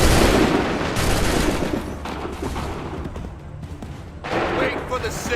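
Dense, sustained gunfire and volley shots from the Assassin's Creed 3 video game, loud and continuous with a slight dip midway before swelling again, with faint voices mixed underneath.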